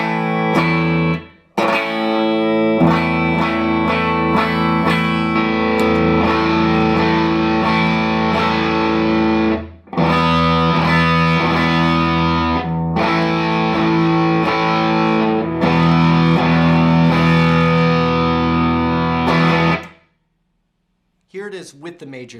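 Loud distorted electric guitar power chords, with the third left out, ring out in several sustained strums, separated by brief cuts, ending in a short muted scratch.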